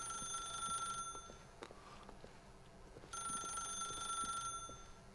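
A telephone rings inside the video game The Stanley Parable, with two bright, trilling bursts of bell-like ringing separated by a quieter pause, clear and close.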